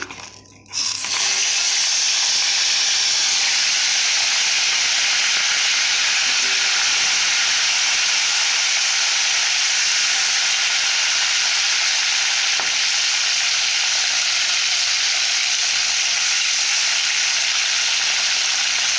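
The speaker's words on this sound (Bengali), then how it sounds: "সর্ষের তেল দিয়ে আমি কাঁকড়াগুলো আমি ভেজে নেব" Crabs frying in hot mustard oil give a loud, steady, dense sizzle that runs close and unbroken throughout, with faint stirring beneath.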